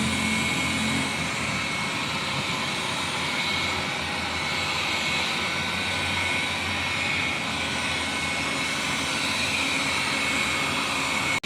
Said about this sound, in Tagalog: Ngayon, nasa-start na siya mag-vacuum ng dire-diretso.